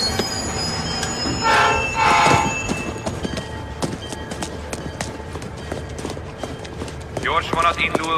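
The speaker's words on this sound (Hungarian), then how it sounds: "Gyors vonat indul Bostonba a 4-es vágányról." Busy railway station as a train pulls out from the platform, with wheel squeal, clanking cars and a horn-like tone, under steady crowd noise and voices.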